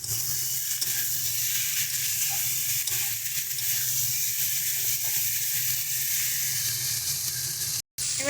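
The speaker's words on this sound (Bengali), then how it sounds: "এবার এর মধ্যে আগে থেকে কেটে রাখা টমেটোটা দিয়ে দিচ্ছি।" Chopped tomato hits a hot pan of rohu fish curry with taro and potato, setting off a loud, steady sizzle and hiss close by with faint stirring, continuous with one brief break near the end.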